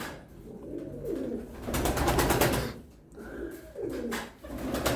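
A pet pigeon coos up close, two rounds of deep throaty cooing swelling and fading over a few seconds, with soft rustling between them.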